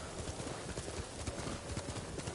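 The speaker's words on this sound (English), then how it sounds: "I guess my stolen horse finally returned hence from where it came." Horse hooves clip-clop steadily in the video game Ghost of Tsushima, a continuous trotting rhythm over a busy background of ambient game sound, with no talk.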